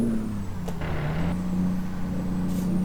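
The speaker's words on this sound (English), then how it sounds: "truck is started up" Heavy truck engine idling and rumbling in a trucking simulator, a low steady drone with a brief hiss like an air brake, plus faint clicks, moderately loud without talk.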